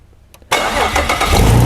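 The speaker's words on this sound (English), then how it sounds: "and the car starts" A Holden VZ Commodore with a no-crank fault is jump-started: after a brief quiet click, the engine abruptly fires up and settles into a loud, close, steady running roar.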